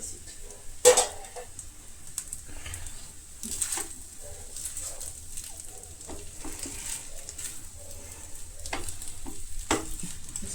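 Eggs for egg fried rice stir-fry over low heat in a pan, a soft, steady sizzle with occasional utensil scrapes and one sharp clink against the pan.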